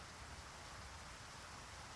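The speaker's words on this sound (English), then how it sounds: "That took away the snow and brought the rain." Rain falling in the X-Plane 12 flight simulator, a steady, even hiss of dense rainfall with no breaks, faint and continuous throughout.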